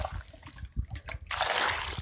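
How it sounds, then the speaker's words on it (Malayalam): Water is poured and splashes over mango pieces in a kitchen, with short sloshes and handling at first, then a steadier pouring rush for the last moments. "നമുക്ക് നന്നായി വെള്ളം ഒഴിച്ച് കഴുകിയെടുക്കാം"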